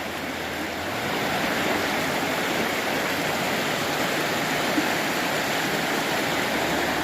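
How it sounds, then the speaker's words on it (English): Fast-moving river water beside a bridge at an abandoned 150-year-old Pennsylvania coal town, a steady loud rushing roar that fills the whole stretch without a break. "Real fast moving water here."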